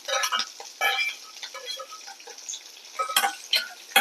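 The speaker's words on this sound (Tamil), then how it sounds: "சின்ன வெங்காயத்தை சேர்த்துக்கலாம் சேர்த்துட்டு நல்லா தாளி வச்சுக்கோங்க" Chopped shallots sauté in a pan for a spicy chicken fry, with soft sizzling and the repeated scrape and clatter of a spoon stirring against the pan in an irregular rhythm.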